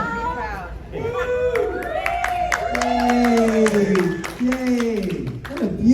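Audience at a Revenge of the Nerds convention panel in Indianapolis cheers, whoops and claps in a sustained burst, with excited voices rising over the applause.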